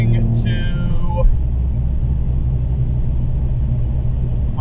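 A car drives down a road with its tire pressure lowered to 15, giving a loud, steady low rumble of engine and tires, with a brief voice near the start.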